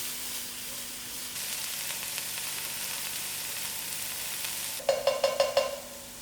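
Garlic fries in a pan with a steady, soft sizzle and hiss, then a short run of stirring scrapes and louder crackles near the end, close up with no talking.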